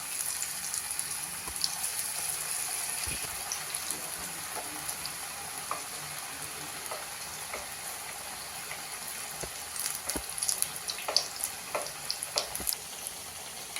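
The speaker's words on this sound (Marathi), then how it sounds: "मीडियम गॅस ठेवून आपल्याला कबाब शॅलो फ्राय करायचे" Rajma kebabs shallow fry in oil over medium heat, giving a steady soft sizzle with scattered crackles and pops that grow busier toward the end, close and without talk.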